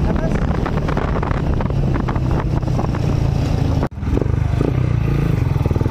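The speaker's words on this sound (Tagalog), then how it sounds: "Malakas ang hangin eh." Strong wind buffets and roars into the microphone in a constant rush, with a low engine rumble from a Rusi Sigma 250cc motorcycle underneath and a brief dropout near the end.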